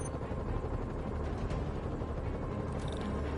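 Helicopter in the Spider-Man video game, a loud continuous low rotor roar and mechanical rumble filling the whole short stretch with no talk.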